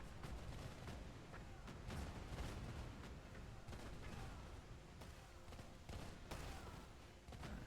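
Cannon fire in a real-time strategy video game battle, a dense, steady barrage of booming shots, some overlapping, with a commentator's voice faint underneath.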